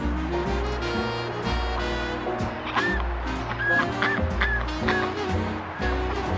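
Domestic ducks calling in snow outdoors, repeated honking quacks scattered over a steady low background rumble, fairly close.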